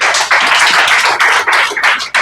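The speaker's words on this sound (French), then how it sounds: "on applaudit encore une fois de plus pour Pasteur" An audience applauds a pastor at a Christian marketing and entrepreneurship talk, with dense, steady clapping close by that rises and falls in waves for about two seconds, with no voices.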